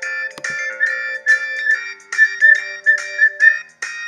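Someone whistles a series of short, melodic notes, repeated in a rising and falling rhythm that stops and starts over about four seconds, fairly close and loud, with no talking.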